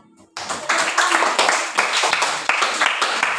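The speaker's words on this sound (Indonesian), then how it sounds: "Kita tepuk tangan dulu untuk kelompok Anjani dengan Titin 1 kali" Classroom children clapping for a student group: after a brief quiet start, a burst of quick, loud, closely spaced claps runs to the end with slight rhythmic unevenness, while voices mingle faintly underneath.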